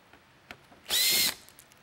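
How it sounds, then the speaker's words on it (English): A power drill whirs briefly to back out a Torx screw from a SoundOff Pinnacle Mini lightbar, a single short high-pitched burst near and loud, framed by quiet small clicks. "remove a series of Torx screws here"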